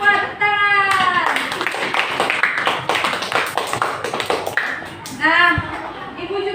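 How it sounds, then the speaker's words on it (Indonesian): Schoolchildren in a classroom clap their hands together, a quick burst of sharp, rhythmic claps with a teacher's voice heard at the start and again near the end. "Ibu mau apresiasi kalian semua. Tepuk tangan"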